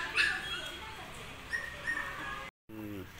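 A dog yips and whimpers in short bursts close by, backed by an outdoor backyard din during a casual badminton game as rain arrives, with people chatting throughout.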